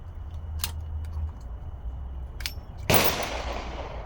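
A Colt Kodiak .44 Magnum revolver fires a single loud, sharp shot outdoors that rings off briefly, preceded by a couple of small metallic clicks over a low background rumble.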